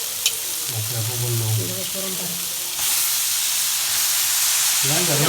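Onions and tomatoes sauté in a pan for a brinjal and dry fish curry, a steady close frying hiss that swells louder partway through, with faint voices murmuring underneath.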